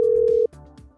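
A telephone rings on an outgoing call, one steady electronic ring tone held loud and clear for about half a second before cutting off abruptly.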